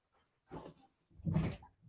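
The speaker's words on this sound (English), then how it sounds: "Hang on a sec. I got to let the dog out." A dog gives two short whining cries, close and fairly quiet, with a brief silence between them, as it asks to be let out indoors.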